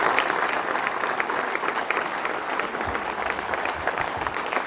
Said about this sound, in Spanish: Un aplauso para Claudia por esa decisión.